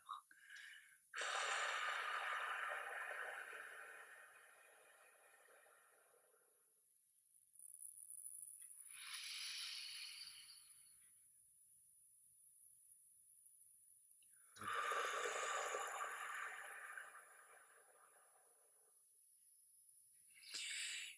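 Long, slow breaths during a guided emotional breathing exercise, with drawn-out airy exhalations separated by quiet gaps, soft and close to the microphone.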